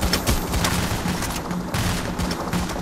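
Dense, continuous automatic gunfire from the Payday video game crackles loudly throughout, rapid overlapping shots forming a steady fusillade with no voices.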